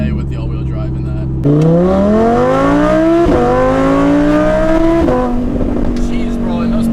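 Audi R8 V10 Plus with Soul Performance exhaust pulling hard, the V10 climbing through the revs with shift breaks and a steady, loud roar close by.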